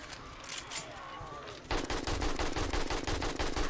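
An AK rifle fires in the video game 7 Days to Die, starting abruptly as a loud, sustained burst of rapid automatic gunfire after a moment of quieter game ambience.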